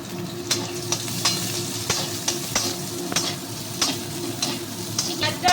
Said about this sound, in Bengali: রসুনটা একটু ভাজা হোক